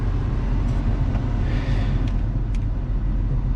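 A car rolls along at a steady cruise, a continuous low road rumble and engine drone from inside the cabin, with a few faint clicks over the top and no talking.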